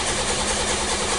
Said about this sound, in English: so I'm cranking, the car starts right up